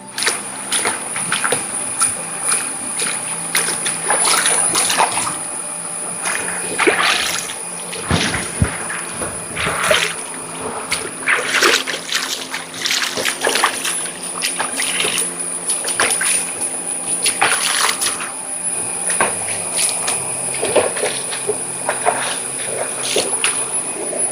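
A dog is bathed in a flowing stream, with irregular splashing and trickling water throughout, close and fairly steady, with insects chirping faintly in the background.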